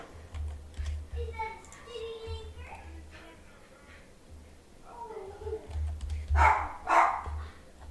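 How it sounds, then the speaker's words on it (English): A dog barks indoors beside a live Call of Duty gaming stream, with two loud, close barks near the end over background talk and keyboard typing. "Oh, this dog."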